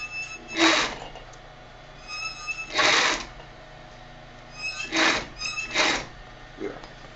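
Sewing machine stitching a handbag lining closed, several short close bursts of rapid needle clatter separated by pauses, with low room noise between runs.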